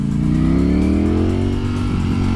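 A 2020 Ducati Streetfighter V4 motorcycle's engine drones loud and close through a small village, its pitch sliding gently as the throttle is worked at low speed, with no talk over it.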